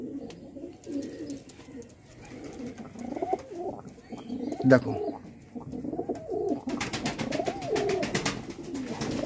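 Pigeons of the Andhra breed coo repeatedly in soft, low, throaty bursts close by, with someone talking briefly over the birds.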